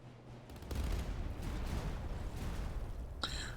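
Cannon and musket fire in a video game battle in the era of Frederick the Great, a dense, rumbling barrage of distant volleys continuing steadily, with a sharp higher crack near the end.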